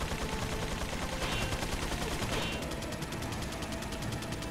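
Gatling gun fire in the Resident Evil 4 video game, a dense continuous stream of rapid shots that stays loud and steady throughout, with no voices.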